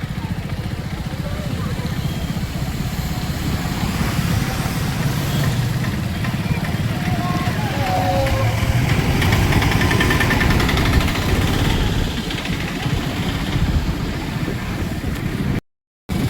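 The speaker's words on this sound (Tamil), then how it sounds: "ஸ்ப்ளெண்டர் வண்டியில் தான் போகிறோம்" A Honda Splendor motorcycle engine on a road ride from Keelakarai toward Thiruchendur, a continuous droning hum with wind noise under a rider talking, ending in a brief cut.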